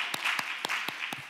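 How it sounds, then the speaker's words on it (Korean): Handclaps from a church congregation during a Wednesday service, a short run of about five crisp, evenly spaced claps, fairly close and clear. "박수 한번 쳐주십시오"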